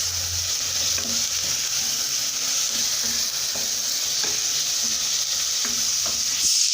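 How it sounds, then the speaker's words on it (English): Onion frying in oil in a pan for chicken stew, a loud, dense, continuous sizzle with faint stirring scrapes underneath, close and unbroken. "adding oil, and then adding onion in it. And we are going to cook the onion until it browns."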